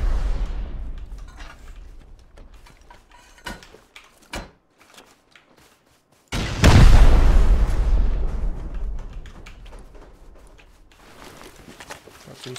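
A rocket blast from a raid in the video game Rust erupts as a single loud, deep explosion that rumbles and slowly decays, following scattered smaller thuds and knocks.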